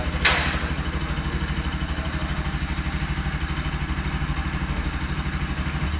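A 2021 Kawasaki Rouser NS 200 FI naked sports bike idles nearby with a steady, even, pulsing engine thrum and a faint clatter, running alone at constant speed.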